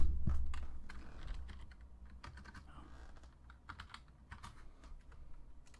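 Quick bursts of keystrokes on a computer keyboard as a SanDisk microSD card is renamed for a Raspberry Pi setup, close and fairly quiet, with irregular clicking clusters and a low rumble at the start, no voices.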